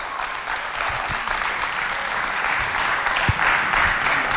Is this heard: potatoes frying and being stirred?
no